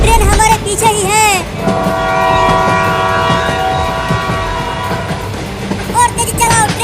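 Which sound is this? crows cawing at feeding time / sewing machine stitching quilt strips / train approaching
train approaching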